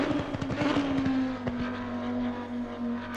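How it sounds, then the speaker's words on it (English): An Audi R8 LMS EVO GT3 racing car engine in Assetto Corsa Competizione howls at high revs, its pitch dipping briefly with a shift, then holding a steady, loud drone. "So the Audi, what can we say about the Audi? She is, well, listen to the soundtrack for a start."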